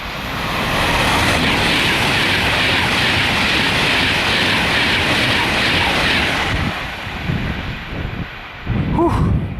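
A train at 125 miles per hour roars past close by as a loud, sustained rush of wheels and wind, then fades away with wind buffeting at the end.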